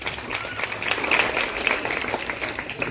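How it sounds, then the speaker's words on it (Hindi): Audience at a Teacher's Day celebration in Simultala claps for a teacher: dense, sustained applause from a crowd, steady and fairly loud throughout. "एक बार फिर से जोरदार तालियां हो जाए सर के लिए।"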